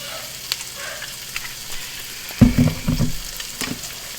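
Onions and mushrooms fry in oil in a pot, a faint hiss at first that swells into a louder, crackling sizzle partway through, as if the pan was just stirred or more oil went in.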